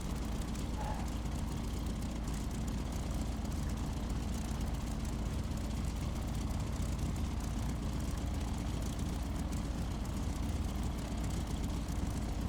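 An F4U Corsair propeller fighter taxis in the DCS World flight simulator, its engine a steady, dense low drone that holds at an even level throughout with no pauses.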